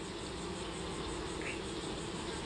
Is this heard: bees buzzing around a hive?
yes